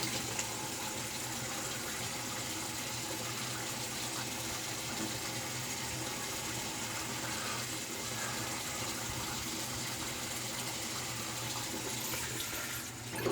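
Tap water runs steadily into a bathroom sink for a rinse after a shave, a soft continuous splashing stream that holds the same level throughout.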